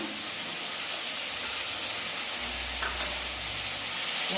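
Shrimp frying in a pan with dried chilli paste, a steady broadband sizzle that holds at an even level throughout, close and alone without any talking.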